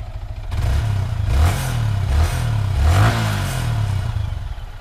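A 250cc sport motorcycle engine idles and revs in a few pulses, a deep rumble rising and falling, close by with no voices.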